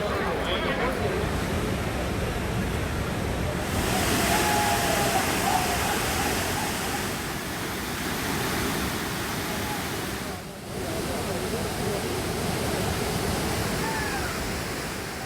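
A waterfall on the Kaveri river pours down in a steady, dense rushing roar that fills the whole stretch, dipping only briefly before resuming.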